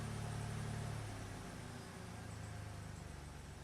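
A Ford Explorer (2011–2019 model range) engine idles up close, a steady low mechanical hum that shifts slightly in pitch as the revs change.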